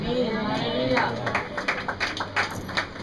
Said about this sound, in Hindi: आज जितना ताली बज रही है